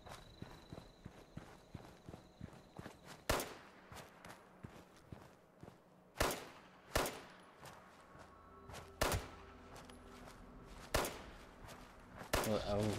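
Sharp gunshots ring out in Fallout 76, about eight loud cracks spaced irregularly over ambient footsteps and faint game background, each burst standing clearly above the quieter steady activity.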